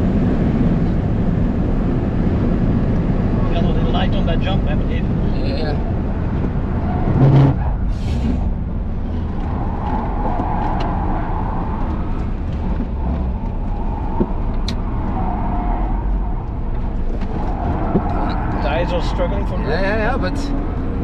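A Tesla Model S Plaid drives along with a steady low rumble of road and wind noise inside the cabin, while people talk over it throughout.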